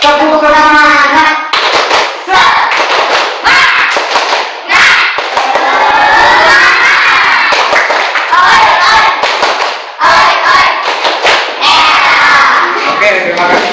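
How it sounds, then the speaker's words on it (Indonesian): A group claps out the rhythmic Indonesian 'tepuk semangat' spirit clap, sharp patterned bursts of hands mixed with loud shouted chanting, pausing briefly between phrases and repeating with energy. "Kita ulangi lagi tepuk semangat"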